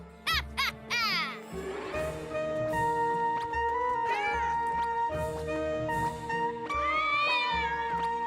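Cartoon cats meow and caterwaul in a rising, wavering chorus from a children's superhero animated series, several yowls overlapping loudly over a continuous musical background.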